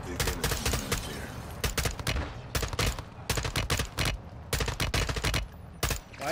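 Sustained video game gunfire from Modern Warfare 2, with dense bursts of automatic weapon fire and rapid shots repeating loudly through the whole stretch in a heavy firefight.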